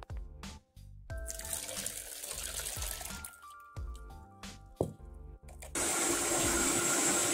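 Fresh coconut water pours into a fruit energy drink of star fruit juice, mango and blueberries, a steady close splash arriving near the end after a stretch of music.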